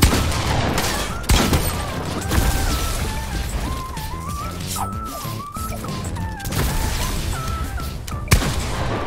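Gunfire in the Fortnite video game bursts in loud clustered volleys and single sharp cracks, layered over tonal game sounds and a constant busy background.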